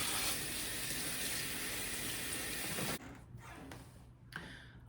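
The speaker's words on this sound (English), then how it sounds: "you've washed your containers out with hot soapy water" Tap water runs steadily over containers being washed in hot soapy water, a loud, even rush for about three seconds that then cuts off to quieter clinks and handling noises.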